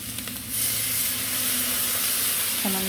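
Spices and a splash of water sautéing in a pan, a sudden loud steamy hiss and sizzle bursting in after a quiet start and holding steady, with a faint clink at the end.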